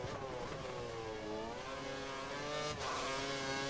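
F1 race car engines from the F1 2013 video game at Bahrain, several cars droning steadily at high revs with harmonic whine shifting pitch, a brief burst near the end, no talk.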